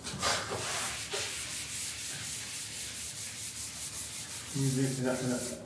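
Eraser rubbing back and forth on a classroom blackboard, a series of rhythmic scrubbing strokes at moderate volume, with a brief squeaky tonal rub near the end.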